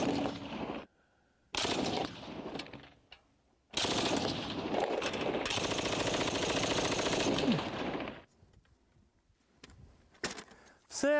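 Bursts of rapid automatic gunfire from a Pecheneg machine gun, loud and close, a long sustained volley in the middle with short pauses and quieter stretches between.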